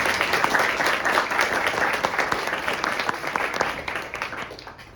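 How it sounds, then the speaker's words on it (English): An audience at a senior presentation gives a sustained round of applause, dense clapping filling the whole stretch at steady volume and tapering slightly toward the end. "How about a big round of applause?"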